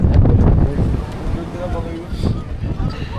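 Cold, gusty wind on the Fansipan peak near Sapa, Vietnam, rumbles loudly against the microphone in steady waves beneath people speaking.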